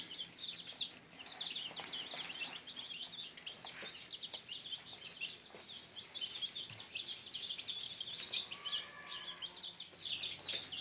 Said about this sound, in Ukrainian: Поставив курчаткам їсти, пити, вони вже освоюються, підходять до кормуші, до годівнички до поїлочки.